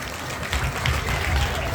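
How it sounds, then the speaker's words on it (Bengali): Audience at a magic show claps together in a short burst of applause, fairly close and steady, with a voice faintly mixed in. "জোরে একটা হাততালি সবাই মিলে প্লিজ"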